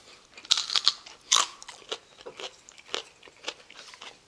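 Close, loud crunching and wet chewing of spicy braised pig's feet (jokbal), with irregular bites and crackly chews repeating steadily and no talking.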